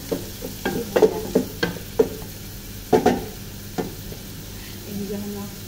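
Onion and garlic sautéed in a pan with a spoon stirring, giving irregular scraping clacks over a low sizzle, near and moderately loud, with a quieter stretch at the end.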